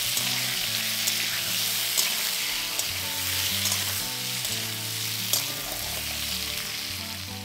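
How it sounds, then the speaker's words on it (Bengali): Potato pieces fry in oil in a kadai over a medium flame, a constant busy sizzle with faint stirring clinks now and then, close by and with no voices. "আমাদের আলুগুলোকে ভেজে নিতে হবে"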